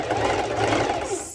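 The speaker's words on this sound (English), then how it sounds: "I'm going to do another parallel stitch" Sewing machine running a parallel stitch along a folded fabric edge on a triangle kimono beach cover-up, a steady, fast, loud mechanical whir that runs continuously with no pause.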